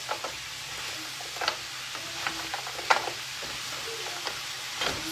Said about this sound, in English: The frozen broccoli sounds like rocks.